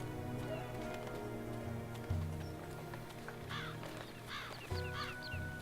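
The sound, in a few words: crow cawing in video game Dreamfall Chapters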